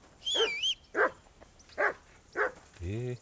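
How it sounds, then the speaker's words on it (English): A dog in a video game set in medieval Bohemia lets out four close, loud barks in quick succession, the first with a high whining edge, ending on a low whimpering growl. "I assume you can hear that damn dog of yours barking."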